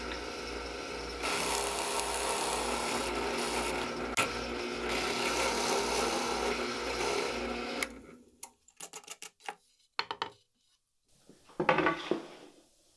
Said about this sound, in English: use my drill press to make a shallow hole in each part